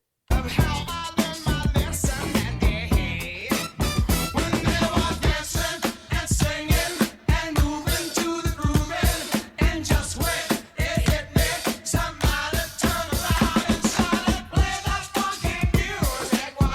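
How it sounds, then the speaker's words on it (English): A music track plays with bass and instrumental parts only, steady rhythmic beats and melodic layers, no vocals. "I'm going to just take the bass and the instruments."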